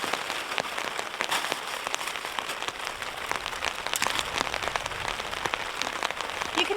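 Heavy rain drums steadily on a camping tarp atop a mountain, a dense, continuous patter with countless close, sharp drop impacts and no voices.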